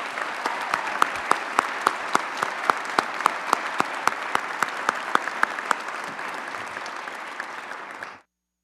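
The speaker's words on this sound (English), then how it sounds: "Please join me in applause for all of them." A crowd applauds at a city inauguration ceremony in Peabody, with loud, dense clapping that holds steady for about eight seconds and then stops abruptly.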